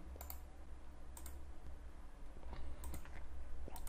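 A computer mouse clicks a few times at irregular intervals, short crisp ticks close by over a quiet low hum, with no talking.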